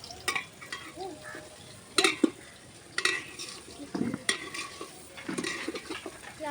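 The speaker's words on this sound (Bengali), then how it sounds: "আমরা মিনিট 5 মতন পেঁয়াজটা ভেজে নেব" Onions frying in a pot over a village-style clay stove, a soft sizzle broken by sharp scrapes and clinks of a stirring spoon against the pot at irregular intervals, close and fairly quiet with no talk.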